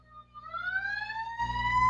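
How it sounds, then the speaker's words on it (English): A wailing siren in New York rises steadily in pitch over a low background hum, growing louder toward the end with no voices. "sorry about the sirens"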